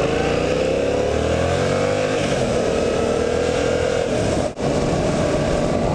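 Yamaha MT-07 motorcycle ridden hard around corners, its engine a loud, close, steady drone that rises gradually in pitch as it accelerates, with one brief dip near the end.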